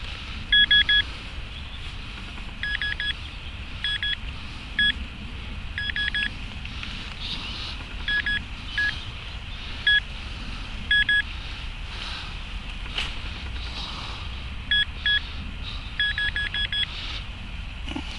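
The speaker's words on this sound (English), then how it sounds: "Oh, we've got a beep." Repeated short electronic beeps from a metal detector come in quick clusters over a steady outdoor rumble, starting and stopping irregularly.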